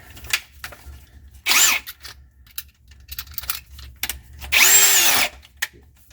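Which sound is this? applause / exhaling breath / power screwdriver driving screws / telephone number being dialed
power screwdriver driving screws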